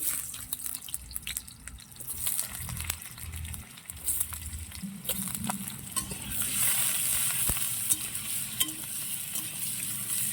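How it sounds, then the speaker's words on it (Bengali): Potatoes frying in oil in a home kitchen, a steady sizzle with scraping stir strokes and occasional drips and clinks, moderately close and continuous with no talk. "আলু ভাজার জন্য তেল দিয়ে দেবো"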